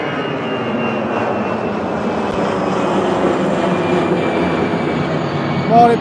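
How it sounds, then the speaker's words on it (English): An EasyJet Airbus A320 jet roars loudly and continuously as it takes off from Liverpool John Lennon Airport and banks into a sharp left turn, a broad steady engine rumble with someone talking over it. "EasyJet A320 off the Isle of Man, making a sharp left turn there to go back round on itself"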